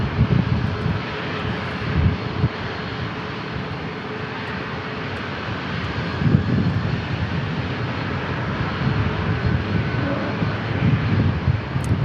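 A jet airliner departing San Diego International Airport for El Paso produces a sustained rumbling engine roar with low surges, loud and close throughout.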